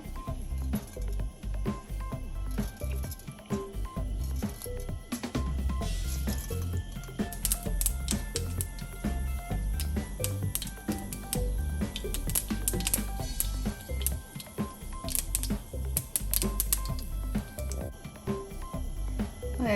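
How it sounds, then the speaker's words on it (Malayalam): Mustard seeds dropped into hot oil for a mushroom cutlet masala, a dense, steady crackle of tiny pops and sizzling that builds and continues for many seconds. "അപ്പം എണ്ണ ചൂടായി ഞാൻ കടുക് ശകലം ഇട്ട് കൊടുക്കാൻ പോവാണ്."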